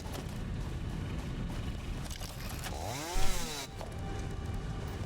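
A chainsaw in the video game Satisfactory drones steadily as it cuts, then gives a brief, louder rev with a sweeping pitch before falling back to its constant buzz.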